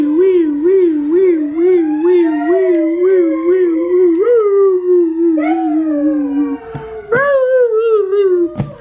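A dog howls nearby in a long, wavering, rising and falling wail, with a second whimpering howl layered in and a brief break before it resumes, loud and alone without talking.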